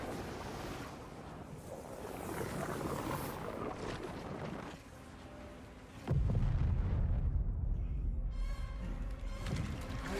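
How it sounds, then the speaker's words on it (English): A flashbang grenade goes off in a video game: a sudden loud, booming blast cuts in partway through over earlier rumbling, then a high, steady ringing tone follows. "You won't get me with the flashbang."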